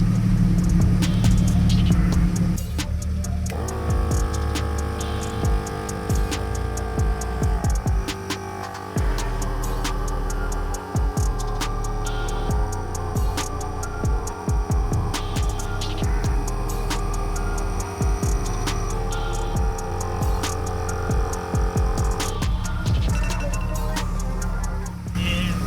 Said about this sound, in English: now here we go on the Amazon compressor